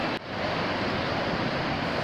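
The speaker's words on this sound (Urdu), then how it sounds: "جاگراں واٹر فال" Jagran waterfall in Neelum Valley roars as a loud, continuous broadband rush of falling water, close and steady, with no speech.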